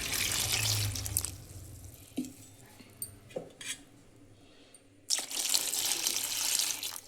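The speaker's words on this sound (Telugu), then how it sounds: "వాటర్ పోసుకోవాలి ఫ్రెండ్స్." Water runs into a pot of half a kilo of tomatoes for tomato rasam. A close, rushing pour fills the start and end, with light clinks and knocks in the quieter middle and no voices.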